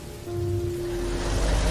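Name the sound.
rain falling at night in a horror cartoon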